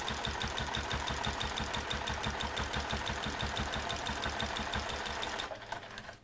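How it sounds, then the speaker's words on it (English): A sewing machine fitted with a walking foot stitches fabric, producing a fast, even mechanical chatter and whir at steady speed close by, then slowing and stopping just before the end, with no talking. "as you're sewing round it, you can just be adjusting it and making sure that it's all lying nice and flat"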